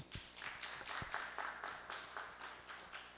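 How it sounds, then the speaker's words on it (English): An audience applauds a speaker at a tax seminar, with soft, rhythmic clapping that rises and falls in steady bursts, fairly distant and quiet. "Put your hands together and clap your hands for Mr."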